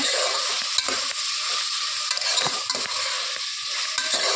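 Mutton curry cooking in oil in a pot, a loud, dense sizzle close by with frequent scraping and clattering strokes as it is stirred, no voices.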